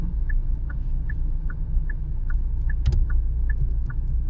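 A car engine hums with a steady low rumble from inside the cabin while driving, with a faint regular ticking chime repeating over it and one brief sharper knock near the end.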